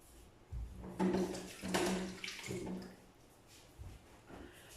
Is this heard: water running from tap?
yes